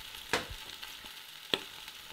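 Lobster heads and shells searing in plenty of smoking-hot oil in a pot, a soft continuous sizzle with two sharp crackling pops, no voices.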